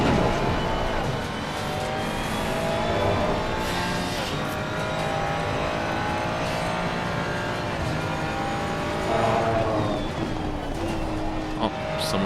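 A race car spins out during a league race in Assetto Corsa Competizione, with steady loud engine roar, tire squeal and skidding throughout and engine pitch sweeping up and down as cars pass, under occasional talk.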